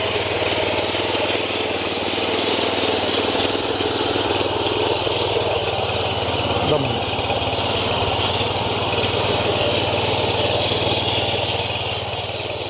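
A power weeder tills soil in a field, its small engine running steadily and loudly up close for the whole stretch with no talk over it.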